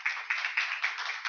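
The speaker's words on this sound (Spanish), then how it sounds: "les pido un muy fuerte aplauso para ellas" Audience clapping for two presenters, teachers at an evening talk on teaching recent history, in a brief, fairly quiet burst of steady, evenly spaced claps.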